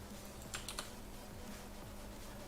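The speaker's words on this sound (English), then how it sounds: "I got world's loudest keyboard." A few quiet keyboard clicks, a short burst of taps, then near silence with a low hum.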